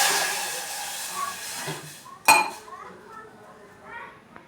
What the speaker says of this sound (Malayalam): റോസ്റ്റ് ആയതിനു ശേഷം 1 ഗ്ലാസ് വെള്ളം ഒഴിച്ചു കൊടുക്കാം